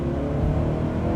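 A Honda Prelude engine runs steadily at high revs with a loud, continuous, close-up drone and no speech.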